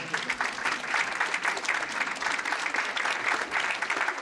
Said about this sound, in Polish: Gorące brawa za odwagę.